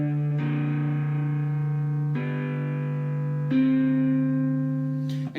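Three-string cigar box guitar sustaining notes that step up toward a D in a song lesson, three long ringing tones each struck and held, steady and close, ending with a brief scrape.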